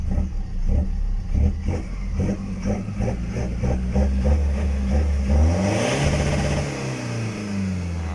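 A remapped Chevrolet engine on its stock exhaust revving repeatedly, a series of short rising blips followed by a longer climb to a high rev and fall back to idle, loud and close.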